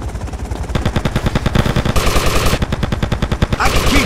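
Rapid automatic gunfire from the video game Grand Theft Auto Vice City, loud, dense bursts of shots firing in quick succession with barely a pause throughout.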